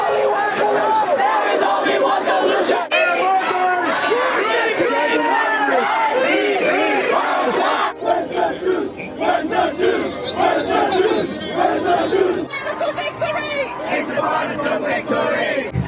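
A large crowd at a street protest chants and shouts in unison, loud and continuous, with rhythmic collective cries and chatter across several segments.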